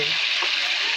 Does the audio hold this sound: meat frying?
yes